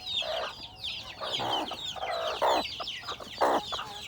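Rhode Island Red chickens cluck in short repeated bursts, several birds close by, with no talking over them.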